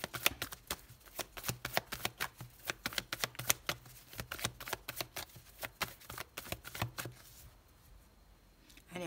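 Tarot cards riffle and shuffle in a long, rapid run of crisp flicks and slaps, close and fairly quiet, the shuffling stopping near the end.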